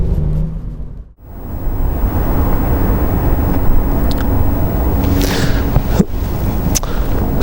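A Volkswagen Up GTI driven hard around mini roundabouts gives a continuous loud engine and road roar, briefly dipping then surging again, with a short higher whine near the end.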